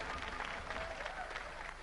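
Studio audience applause during a Robot Wars robot-combat television show, a steady wash of clapping at moderate level that fills the whole stretch with no talk over it.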